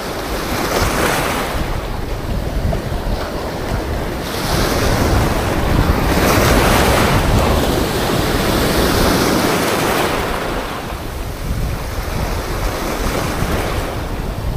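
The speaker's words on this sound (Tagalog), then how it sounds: "Alon dahil sa amihan." Wind-driven sea waves churned up by the northeast monsoon roll and wash continuously, with steady gusting wind buffeting the microphone on open water from a boat, loud and with no voices.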